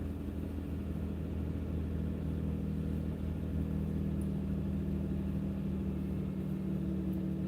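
A pickup truck engine idles while warming up, a steady, close, loud low rumble with a constant hum and no voices.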